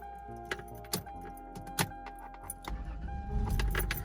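A third-generation Toyota 4Runner is switched off while its keys jingle in a few sharp metallic clinks near the ignition, and a low rumble swells toward the end.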